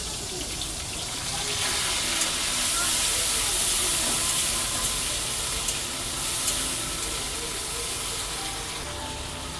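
Ginger paste with tomato and whole spices sizzling in hot oil in a pan for rohu fish curry, a steady, dense frying hiss that stays fairly even and close throughout.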